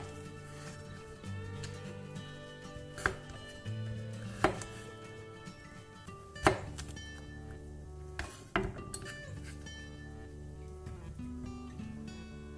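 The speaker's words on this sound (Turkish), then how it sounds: "Benim kabaklarım büyük olduğu için biraz daha ince dilimleri ayıracağım." Large white zucchini being sliced with a knife in a kitchen: a few sharp knife taps on a cutting board, spaced irregularly, over a steady background hum of music.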